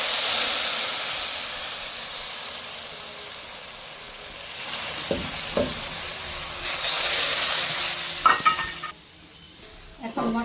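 Chili powder and turmeric powder, mixed together for a topshe fish dish with mustard paste, hit hot oil with a loud, steady sizzle. Occasional stirring knocks sound beneath the hiss, which surges louder partway through and then cuts off near the end.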